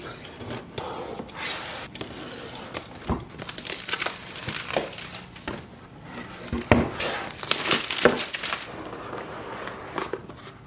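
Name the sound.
unboxing Microsoft Surface Laptop Go packaging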